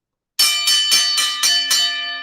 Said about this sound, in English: That's the last bell.